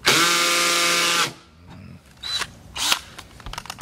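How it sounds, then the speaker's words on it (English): A power drill whines loudly for about a second, then stops, followed by scattered clicks, knocks and rustling, while installing a vent fan in a Ram ProMaster van. "I think I'm bad at drilling."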